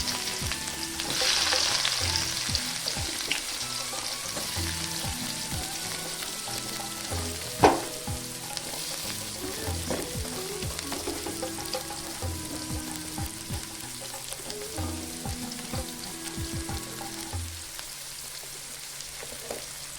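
Onions fry in a pan for egg fried rice, a continuous close hiss and crackle like light rain, with occasional scrapes and one sharp knock of a utensil partway through.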